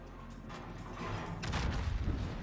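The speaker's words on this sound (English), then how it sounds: "Can I get one more salvo off on?" A warship gun salvo in World of Warships, deep booming shots that build from a low rumble into a dense, loud cluster of blasts near the end, with no talk.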